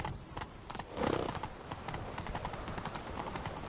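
Rapid clip-clop of horse hooves galloping in The Witcher 3: Wild Hunt, steady and close, with a brief whinny near the start over a busy game soundscape.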